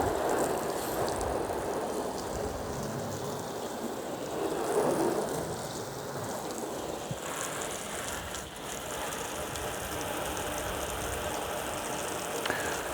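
Steady broadband hiss of water sprayed over a ceramic-waxed car body, a month after waxing and unwashed, running continuously and fairly close with slight swells, no talk.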